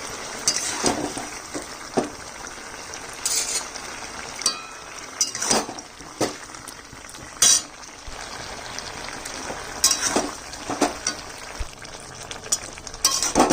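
Winter vegetables with poppy seed paste and lentil dumplings cooking in a pan, with steady frying hiss, scattered clinks and scrapes of a stirring utensil against the pan, close by.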